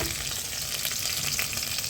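Chopped onions sizzle and crackle steadily in a hot pan while cooking sardine curry, a continuous close frying hiss with no talking.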